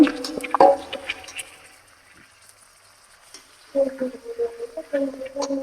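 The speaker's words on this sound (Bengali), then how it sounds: "পেঁয়াজটা বেশ সুন্দর ভাজা ভাজা হয়ে গিয়েছে তো আম্মু এই যে আদা রসুন বাটা দিয়ে দিল" Onions fry in a pan as ginger garlic paste goes in, a soft sizzle with stirring knocks, fading quieter midway before a voice talks over the cooking.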